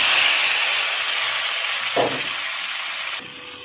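A tomato goes into hot oil tempered with mustard seeds, cumin and dried chili for khichuri, raising a loud, sharp sizzle that settles into a steady hiss before cutting off abruptly.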